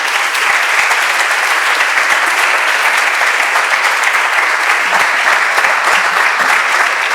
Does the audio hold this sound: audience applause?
yes